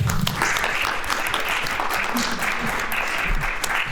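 Studio audience applause during an entrepreneurship podcast reunion, a steady dense clapping wash lasting the whole stretch, fairly close and loud with no voice over it.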